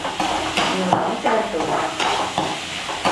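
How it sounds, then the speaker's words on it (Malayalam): Onions sizzle and fry in a pan while a spoon stirs them in quick, repeated scrapes, the frying hiss loud and close throughout, with a voice faintly underneath. "ഇങ്ങനെ നന്നായി കളറൊന്ന് മാറുന്നത് വരെ ഇളക്കി കൊടുക്കണം ആ സവാളയൊക്കെ ഒന്ന് വഴണ്ട് വരുന്നത് വരെ"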